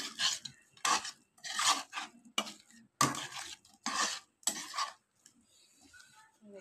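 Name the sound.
stirring ginger-garlic paste in a pan for egg potato curry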